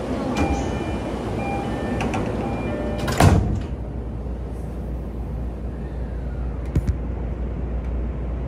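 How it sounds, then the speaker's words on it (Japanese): Japanese Joban Line train doors slide shut with a sharp thud on platform 6, then a second, softer knock follows, over a steady hum of station ambience. "勝田行きのドアが閉まります。"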